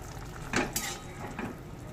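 Cumin, chilli and turmeric powders with ginger paste being mixed in a pan of potatoes, a few soft scraping stirs over a low background hum, close and fairly quiet.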